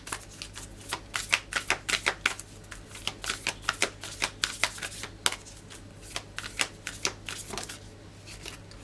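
Tarot cards being shuffled by hand close up. Quick bursts of riffling and slapping repeat in an uneven rhythm over about nine seconds, with no talking.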